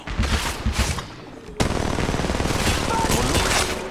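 Automatic weapon fire in the mobile shooter Apex Legends Mobile, a steady rapid burst after a sharp onset, loud and close, with an earlier stretch of scattered shots.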